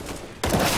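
Spraying gunfire in Counter-Strike, a sudden burst of continuous rapid shots that starts abruptly after a quieter moment and stays loud and close.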